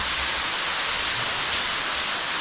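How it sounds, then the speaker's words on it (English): A waterfall pours inside a cave, a steady, dense broadband rush of falling water with no pauses, loud and close. "here's another sweet waterfall"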